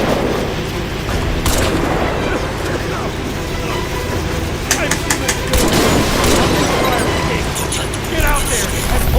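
Gunfire in the video game Crysis 2, with dense, rumbling bursts of shots and booms over a constant battle din, while a voice talks over the action.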